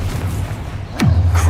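A Confringo blasting spell bursts in Hogwarts Legacy: a single sharp blast with a falling whoosh about two-thirds in, then a low rumbling drone that carries on over a steady background hum.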